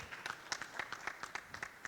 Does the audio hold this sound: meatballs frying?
no